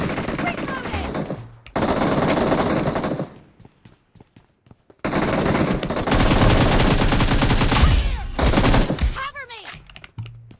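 Rapid automatic gunfire in a shooter game comes in two long, loud, close bursts separated by a short pause, with a brief lull and a few scattered shots between them.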